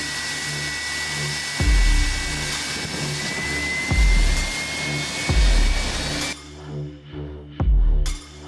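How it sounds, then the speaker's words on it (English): A light aircraft's engine runs roughly with a steady loud drone, broken by four heavy low thumps spaced about two seconds apart; near the end the drone cuts out briefly before another thump. "The engine coughs once, then spits fire."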